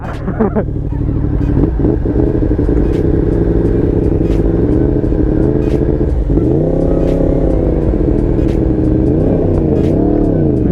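A Yamaha R1M motorcycle engine revving steadily while being ridden, loud and close throughout, with pitch rising and falling through gear changes and faint clatter on top.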